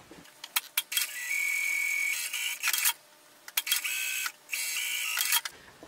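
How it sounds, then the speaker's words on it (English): A sewing machine stay-stitches a garment neckline from the shoulder seam to the center back, running in short bursts with brief pauses between them. The whirring is close and moderately quiet, with no talking. "I'm gonna stay stitch the neckline just from the shoulder seam to the center back"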